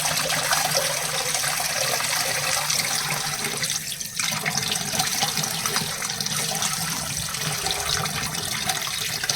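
Goat tripe being washed by hand under a running tap, with a steady rush of water splashing and gurgling throughout, close and continuous, with no talking.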